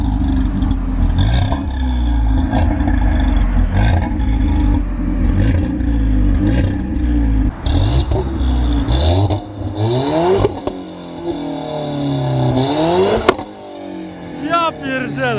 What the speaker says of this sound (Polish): Zobaczcie też, jak brzmi charakterystyka dźwięku wydechu.